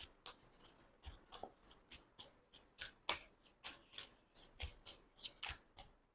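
A deck of tarot cards is shuffled by hand, a quick rhythmic run of about twenty crisp riffling snaps, close and fairly quiet, with no talk.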